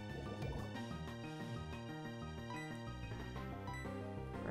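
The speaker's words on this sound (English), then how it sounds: "It's going to use Water Gun." Water Gun attack in the Pokemon Platinum video game: a bubbly, gurgling liquid burst plays over a dense, steady backdrop of looping chiptune battle music, fairly quiet throughout.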